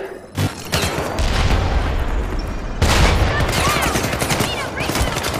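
A ship being destroyed in the co-op shooter game Syndicate: loud, dense bursts of gunfire and heavy booming explosions roll on continuously, with a sharp surge of blasts partway through.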